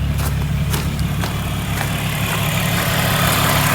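Supercharged VR6 engine swapped into a VW Mk1 Golf idles smoothly and steadily, a loud, close, even drone with a constant low rumble and faint ticking above it.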